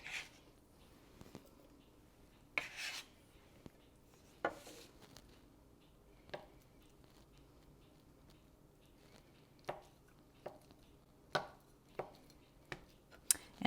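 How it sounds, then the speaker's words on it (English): Knife rough chopping ingredients for a chunky chicken salad on a cutting board, a series of irregular sharp chops, close but fairly quiet, alone with no talk. "I'm just rough chopping these, making it a little chunky."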